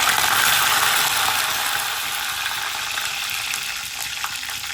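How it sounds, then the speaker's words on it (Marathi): Mustard seeds, cumin and curry leaves hitting hot oil, a loud, dense crackling sizzle with rapid popping that fades slightly over a few seconds, no talk. "तेल गरम झालेलं आहे आपलं. आता मोहरी टाकूया, जिरं, कढीपत्ता"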